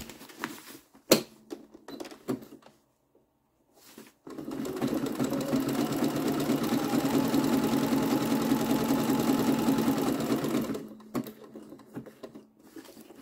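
Sewing machine stitching around fabric letters on a scrappy name pillow, a close, fast, even whirring run of about six seconds, framed by short clicks and handling noises before and after, with no talking.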